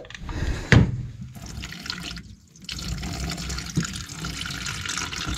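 Water running from a tap through a flexi hose during plumbing work, a steady hissing rush with a sharp knock near the start and a brief lull midway before the flow resumes.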